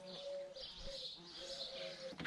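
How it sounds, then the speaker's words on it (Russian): Morning in a quiet village, with small birds singing and cooing softly at a distance over a steady low outdoor hum. The calls are repeated and gentle, and no one speaks. "В деревеньке тихо. Только птички поют."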